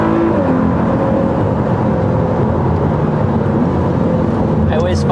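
A car with a newly fitted exhaust is driven hard on an open road, giving a loud, continuous engine drone and roar that holds steady throughout.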